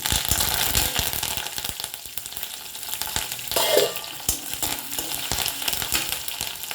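Red chilli, green chilli and curry leaves sputtering in a hot oil tempering, a steady close crackling sizzle with scattered clicks of a spoon against the pan and a brief louder spatter midway.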